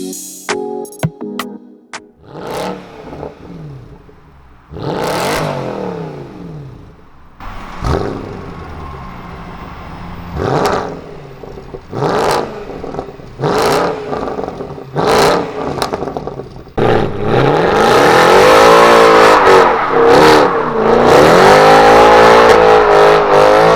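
A Mercedes W204 C63 AMG with an H-pipe, secondary cat bypass and RSS ECU software revs loudly in a series of sharp blips, then settles into a long, sustained roaring rev, close and very loud.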